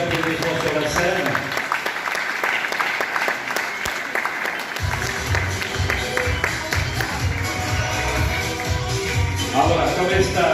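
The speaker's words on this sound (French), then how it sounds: "merci de les accueillir par vos applaudissements sur la scène" An audience at a stage event applauds to welcome a family and their assistance dog onto the stage: dense, sustained clapping from many hands throughout, with voices and shuffling mixed in.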